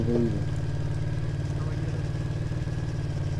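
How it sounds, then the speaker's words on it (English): A vehicle engine idles steadily in ARMA 3, a constant low rumble running through the whole stretch, with a brief voice fragment at the start. "Turn your engine off."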